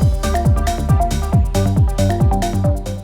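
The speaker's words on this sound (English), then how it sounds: "So now if we introduce back our organ and chord stabs, it sounds like this." Electronic dance track with organ and chord stabs layered over a steady beat, punchy repeating kicks and bright rhythmic stabs filling the mix at a loud, even level.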